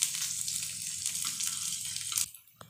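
Paneer frying in hot mustard oil, a steady close hiss and crackle of sizzling that drops off sharply near the end, leaving a faint clink.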